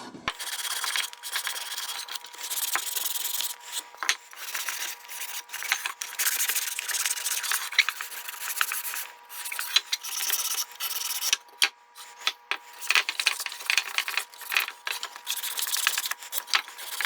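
Hand sanding across the grain of a wooden cremation urn, a steady close rasping scrape in repeated back-and-forth strokes with brief pauses between passes.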